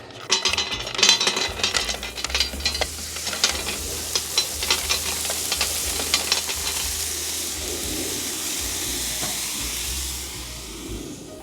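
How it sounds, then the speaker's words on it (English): Clams sizzling on a heated plancha: loud, close frying hiss with crackles and pops, busiest at the start and settling into a steady hiss, no talking. "Step number one is get the clams on the plancha."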